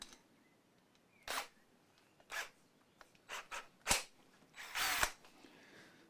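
Several short bursts of an electric drill whir on and off at irregular intervals during a guitar bridge upgrade, each lasting under a second, against a quiet background.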